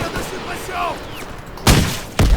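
Gunfire in a World War II video game battle at Marigny, with two sharp, loud broadband bursts near the end over a busy background of voices and battle noise.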